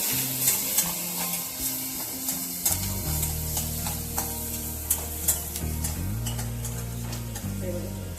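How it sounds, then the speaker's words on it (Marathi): Onion sautéing in a pan until browned for dhaba-style paneer bhurji, with steady sizzling, repeated spoon stirring and scraping, and a low background hum that grows louder partway through. "कांदा थोडा ब्राऊन होईपर्यंत परतवायचा।"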